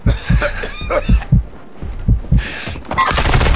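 Rapid bursts of Call of Duty: Warzone 2.0 gunfire crackle in short volleys, loud and close, with a brief pause midway before another burst.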